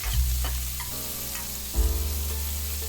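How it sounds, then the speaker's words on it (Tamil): Large onions sauté in oil for potato rice, a loud, close sizzle with a couple of stirring scrapes over a low steady hum. "இது கூடவே பெரிய வெங்காயம் நம்ம இதில் ஆட் பண்ணிடலாம் இதையும் நல்லா வதக்கிக்கலாம்"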